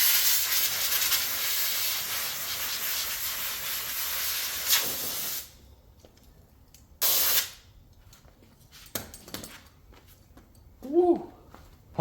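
Compressed air hisses loudly and steadily as it blows dirt out of a part from a 2021 Can-Am X3 Turbo RR, cutting off, then a short second burst, with scattered clatter and a brief voice afterward.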